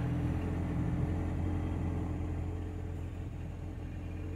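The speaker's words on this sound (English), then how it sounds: "Sounds like the engine's running." A car engine idles steadily with a low, continuous rumble, close by and unchanging, with no voices.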